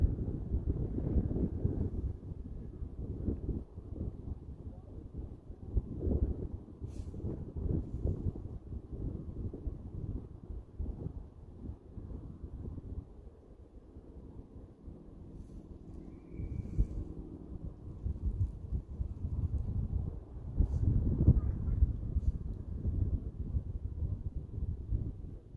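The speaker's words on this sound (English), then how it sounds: "here come the 20-mile-an-hour winds again" Strong wind gusting across an Indiana lake during kayak fishing buffets the microphone in a low, continuous rumble that rises and falls, faint rustling and water sounds mixed in, no talking.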